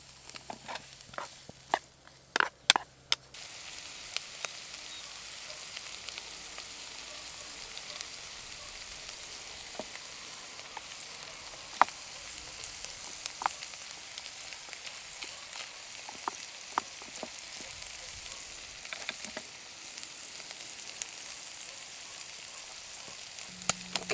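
Bacon, onion and a bit of mushroom fry in a small pan on a Trangia camping stove, a soft continuous sizzle with scattered crackles and pops, close and quiet with no talking.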